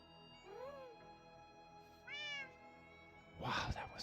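A cat meows twice in a video game, two clear rising-falling cries a second and a half apart, followed by a brief burst of louder noise, all over a soft background hum.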